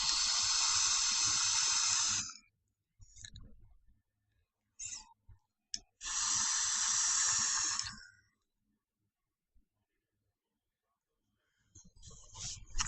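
Long hissing exhales of vapor from an e-cigarette dripper, two strong bursts lasting about two seconds each with short puffs and quiet gaps between them, close to the mic.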